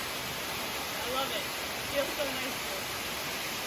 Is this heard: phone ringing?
no